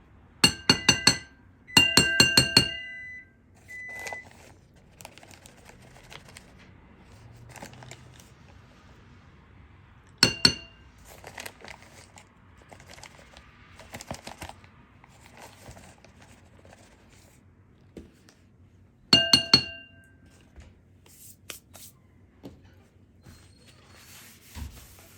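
A spoon clinks and stirs inside a glass while cornstarch is mixed into beef broth, giving bright, sharp clinks in short rapid bursts between quieter scraping and pauses.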